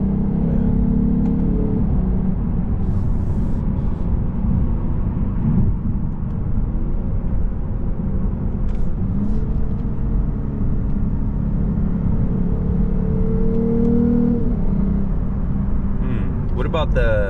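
A Lexus RC 350 F Sport coupe runs in manual mode with paddle shifting, giving a steady, loud cabin engine drone with gentle rises in revs. Talk in the car continues over the engine the whole time.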